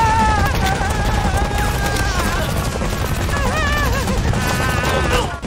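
Gunfire in an action film scene, a continuous loud barrage of shots with booming impacts under a dense music and effects mix, steady throughout.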